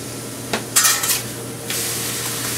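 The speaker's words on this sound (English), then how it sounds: "meat that I just cut, cooking" Freshly cut Philly cheesesteak meat cooks on a restaurant grill, a steady sizzle with sharp metal spatula scrapes and clanks near the start.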